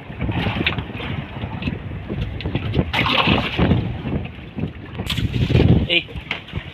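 Strong wind roaring across the microphone on a small boat at sea, continuous and loud, with people talking and calling out over it.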